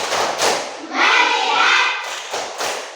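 Indonesian fifth-grade primary classroom doing the tepuk fokus rhythmic focus clap, a few loud clustered group claps and thumps in a quick pattern, close and alone.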